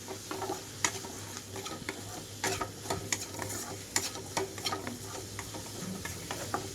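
Mushroom pieces sizzle and fry in a pan for a mushroom fried rice, with a steady hiss broken by repeated scraping stirs of a spatula, close and moderately loud, no talking.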